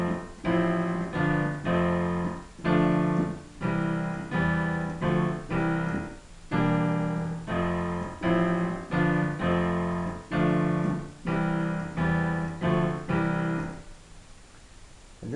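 Piano playing the chord progression of a song at normal speed, a steady rhythmic pattern of repeated struck chords, clear and alone, fading out at the end.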